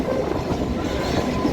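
Kolkata Chakra Rail circular suburban train running, a steady loud rumble of wheels and carriages with faint clickety-clack rhythm throughout, close and continuous with no talk.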